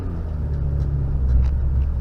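A Vauxhall Astra on a shakedown test drive after clutch work, giving a steady low in-cabin engine and road rumble with no talk.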